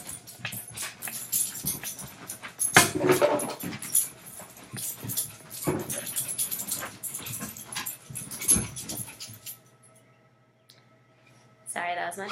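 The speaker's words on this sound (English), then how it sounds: "Sorry, that was my dog." A dog indoors whimpers, snuffles and makes restless noises in close, irregular bursts, with scrapes and movement, before a quiet pause and a final short burst at the end.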